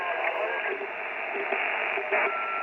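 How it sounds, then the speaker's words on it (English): A CB radio receives a steady wash of loud static hiss with faint garbled fluctuations, the high noise level continuous throughout. "the noise level is obviously very high because the S meter is showing too much"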